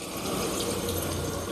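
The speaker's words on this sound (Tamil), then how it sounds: "இப்போ வந்து நம்ம அந்த மிக்ஸி கழுவி அந்த தண்ணியை ஊற்றலாம்." Water used to rinse a mixer jar pours steadily into a pan of potato masala in a continuous splashing stream, close by, with no talking.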